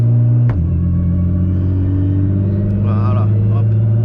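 A tuned Nissan GT-R running on petrol cruises along the motorway, its engine a steady loud drone from inside the car with a brief dip early on, while someone talks over it.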